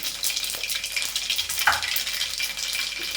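Mustard seeds crackle and spit in hot oil, a steady close sizzle with sharp pops scattered throughout, no voices.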